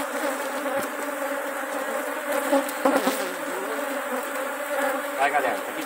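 Honey bees buzz densely and continuously as a hive frame of honey is shaken, a loud, close, steady drone with a few thumps and brief surges.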